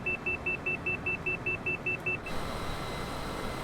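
A cockpit warning beep in the Citation CJ4 business jet in Microsoft Flight Simulator, a rapid run of about eleven evenly spaced high-pitched tones over steady engine hum, cut off abruptly and leaving the hum alone.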